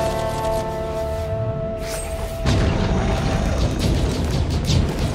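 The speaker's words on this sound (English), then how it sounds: "Missiles out." Missiles launch and explode in the arcade game Shuriken Hell: a whooshing launch gives way to a deep, rumbling boom that swells and lingers loudly to the end, with no voices.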